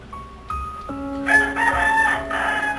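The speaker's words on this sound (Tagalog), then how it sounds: "Yung manok po ba yun?" A rooster crows loudly nearby, a long rising and falling call with strong harmonic tones, clearly standing out.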